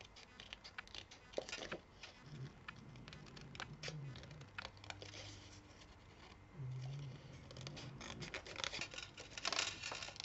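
Small precision scissors snip repeatedly in quick, crisp clicks close to the microphone, with faint rustling and occasional low hums between cuts.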